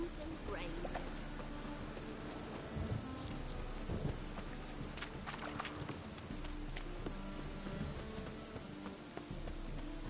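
Heavy rain pours steadily with rolling thunder in the video game Witcher 3, a constant wet hiss with scattered drops and low rumbles, under faint talking.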